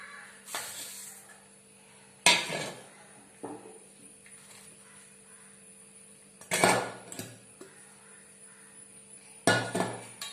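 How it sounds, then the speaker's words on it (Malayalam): Ingredients for a flattened rice snack being mixed together in a bowl: four separate bursts of scraping and rustling, close and distinct, with quiet pauses between them. "നമുക്കിത് എല്ലാം കൂടി ഈ പാത്രത്തിൽ മിക്സ് ചെയ്യാം"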